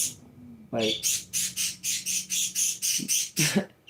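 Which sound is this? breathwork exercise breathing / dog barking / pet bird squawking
pet bird squawking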